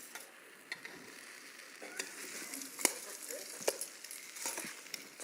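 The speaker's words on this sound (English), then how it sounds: "can you hear it sizzling?" Food sizzles in a pan with a steady, fairly faint crackling hiss broken by occasional sharper pops and clicks of stirring, heard up close with no one talking.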